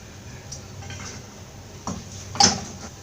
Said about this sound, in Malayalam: ഇനി വെള്ളയപ്പം പാലപ്പം ചൂടാനുള്ള അപ്പച്ചട്ടി അടുപ്പത്ത് വെക്കാം.